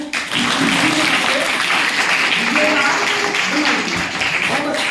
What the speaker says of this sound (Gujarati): ટીમ સી માટે આપણે તાળી